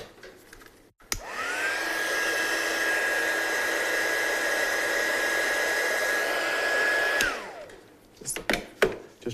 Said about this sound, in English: I'm just going to get my heat tool in to activate that side.